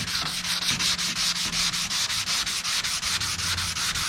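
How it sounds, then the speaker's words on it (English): Hand sanding of painted car body panel to knock down orange peel, a steady rhythmic scratching with regular back-and-forth strokes, close and continuous, about four per second, with no voices. "You can see the orange peel as I'm sanding it."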